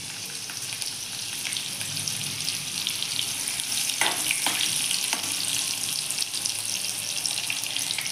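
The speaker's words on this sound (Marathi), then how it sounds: "जिरं चांगलं तडतडलं की मग हिरवी मिरची" Cumin seeds and green chili sizzle in hot oil in a pan, a loud continuous frying hiss with scattered sharp crackles and pops close up, and no talking.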